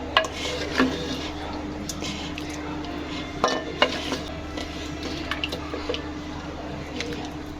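Cooked tori (ridge gourd) sabzi being served from a pan with metal utensils, giving scattered clinks and scrapes of cookware over a steady low background hum, fairly close.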